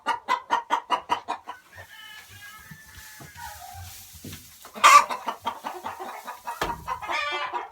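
Chickens cluck loudly and insistently in a coop, with a run of rhythmic clucks at the start, scattered squawks throughout and a louder burst in the middle, all close by.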